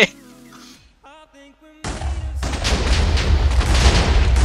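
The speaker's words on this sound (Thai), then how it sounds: "เสียงระเบิดโอเค" Electronic music from Minecraft cuts off, then a burst of booming explosions and rumbling blasts erupts and keeps rolling, loud and heavy.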